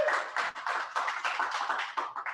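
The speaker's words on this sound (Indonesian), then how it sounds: "Boleh, itu virtual tepuk tangannya ya kebetulan." Virtual applause sound effect, a steady patter of many hands clapping at close range, busy and even without any talking.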